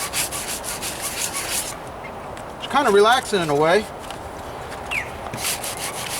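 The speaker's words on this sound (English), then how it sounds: "sanding and body work." Steady scratchy rubbing of sandpaper against a 1998 Toyota Corolla body panel by hand, close up, with someone speaking briefly over it partway through.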